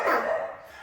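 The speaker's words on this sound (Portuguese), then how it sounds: "Cachorro a gente não controla o latido" Dogs bark in a single short, fairly loud burst close by, with no talk over it.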